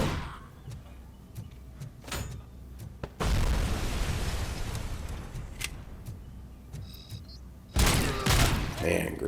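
Grenades go off in an arcade video game, with two loud booming bursts of blast noise and rumbling debris, plus sharp shots and clicks between them.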